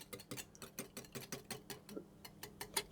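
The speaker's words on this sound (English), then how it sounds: "I'm just going to start off by beating my eggs and egg yolks together" Eggs and egg yolks being beaten together in a bowl for a lemon tart filling, a steady run of quick, sharp whisk taps and clicks repeating about every quarter second, close and fairly quiet.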